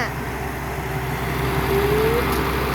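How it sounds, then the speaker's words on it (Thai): Farm tractor working a sweet potato planting field, a steady, close, low engine drone with a constant rumbling throb. "อันนี้ รถไถ"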